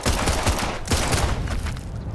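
Dense rapid gunfire rattles in the video game Sniper Elite 5, overlapping loud bursts of shots crackling close by with barely a pause across the whole stretch.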